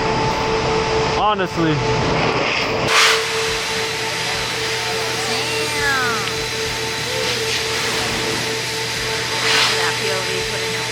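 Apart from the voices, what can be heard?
car wash blow dryer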